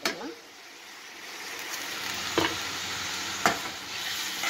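Boiled carrots and beans are tipped into a hot pan with onions for veg puff filling, giving a steady sizzle with scraping stirs and a couple of sharp clinks of the spoon against the pan.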